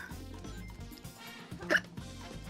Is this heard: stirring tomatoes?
no